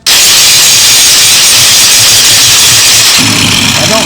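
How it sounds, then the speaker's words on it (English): Loud, steady abrasive hiss of a grinder taking excess weld material off bolts welded together for a roll-around seat, running continuously at close range with a slight change in tone near the end. "Now what I'm going to do is grind all that excess stuff off of there."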